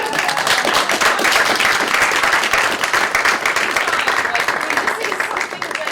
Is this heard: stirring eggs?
no